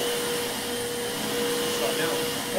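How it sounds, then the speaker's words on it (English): A vacuum cleaner drones steadily at close range with a constant roar and a high motor whine, holding an even level from start to finish. "So he's going to vacuum 52 times here."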